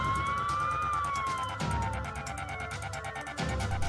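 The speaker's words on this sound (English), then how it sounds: "I heard police sirens." Wailing police sirens rise and fall close by, layered over the rumble of passing traffic, loud and continuous.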